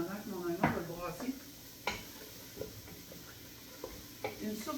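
Chopped onion gets stirred in a soup pot with a faint sizzle, a few light spoon scrapes and knocks against the pot, and a voice murmuring in the background.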